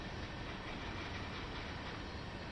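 Train in Train Sim World 4 slowing under the loco brake, a steady dense rolling rumble with faint rhythmic wheel noise, continuous and even throughout with no talk.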